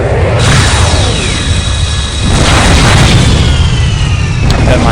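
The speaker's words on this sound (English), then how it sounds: "Oh wait, the beam weapon's working as well." Beam weapon firing in the space combat game Freespace 2, a loud continuous roaring blast with sweeping tonal whines and booming bursts sustained throughout.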